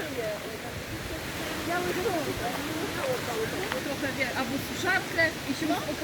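A waterfall in a forest near Przesieka, where people jump feet first into the water, gives a steady broadband rush while a person talks over it at moderate distance.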